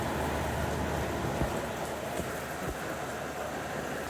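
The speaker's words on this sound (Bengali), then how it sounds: "টিপ টিপ টিপ করে বৃষ্টি পড়ছে" Rain falls steadily outside on an afternoon, making a dense, even hiss with a few louder drops standing out, and no voices are heard.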